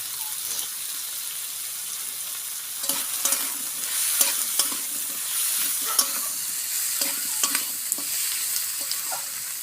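Potatoes and onion frying in a pan with turmeric, a bright steady sizzle broken by repeated scraping stirs and small clinks, close up and without talk.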